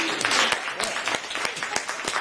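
An audience at a real estate investors' meeting claps in a short burst, with loose, individually distinct claps at close range and some chatter mixed underneath.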